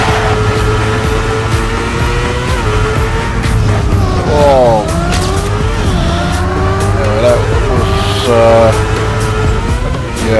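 A race car engine in TrackMania 2 revs loud and close, rising and falling in pitch through quick gear changes and swoops, with someone talking over it.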